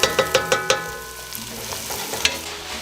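Chopped onions cooking down in a pan for aloo matar, a steady close sizzle and fry with several quick stirring scrapes near the start and a few more later, no talking.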